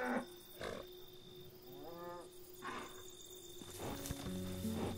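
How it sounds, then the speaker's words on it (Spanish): A cow trapped in a ditch lows plaintively, a faint, distant moo rising from low background noise and a steady hum, with scattered thumps around it. "una vaca que muchos han divisado y que muge en forma lastimera por haber quedado atrapada en la zanja"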